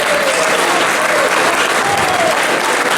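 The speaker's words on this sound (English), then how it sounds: "So a round of applause for them." A crowd at a Stoxkarts season awards ceremony breaks into loud, dense applause that fills the room as a continuous roar of clapping and holds at full strength without a break.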